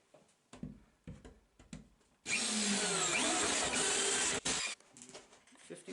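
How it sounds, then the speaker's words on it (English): A one-speed power drill runs at full speed with a loud, steady whine for about two and a half seconds, then cuts off abruptly. Scattered knocks and handling clatter sound before and after. "this is a 1-speed drill, so it's just all or nothing."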